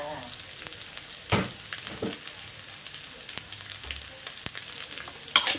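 Rice with fermented fish and sugar is stir-fried in a pan, a crackling sizzle broken by repeated scrapes and knocks of the spatula at an uneven, close rhythm.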